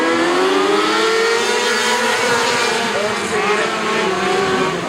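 A pack of race cars roars past on the green flag at Gulf Coast Speedway after a double-file restart, loud continuous engine wail with rising and falling pitch as they accelerate, steady and dense throughout.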